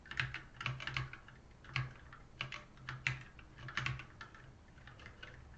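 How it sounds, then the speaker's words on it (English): Quiet, uneven typing on a computer keyboard, with bursts of keystrokes and short pauses, close and alone while a cluster endpoint string is entered for an RDS database setup. "Watching me try to type out this has got to be painful."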